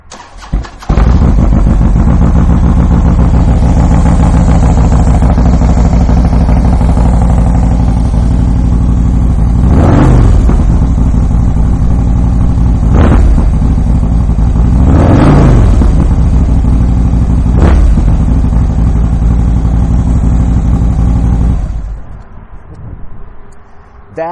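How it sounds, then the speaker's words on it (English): A 2011 Harley-Davidson Street Glide with a Stage 4 engine and Thunderheader exhaust starts up and idles loud and close, with deep rumbling and several sharp throttle blips before shutting off. "I am now going to take the opportunity to fire this bike up so you can hear that Thunderheader."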